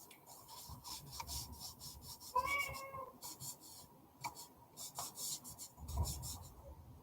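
A single short cat meow rises faintly through quiet scratching and rubbing noises nearby, with no talking.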